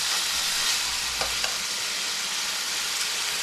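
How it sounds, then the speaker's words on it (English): Green seasoning sautéing in a pot for catfish curry, a steady soft sizzle throughout with a couple of faint stirring clinks, no talk. "we're gonna start off by sauteing the green seasoning."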